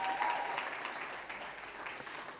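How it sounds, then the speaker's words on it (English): An audience at a live wedding awards event gives a sustained round of applause, dense and steady throughout, with faint cheering mixed in. "Can you give her another round of applause?"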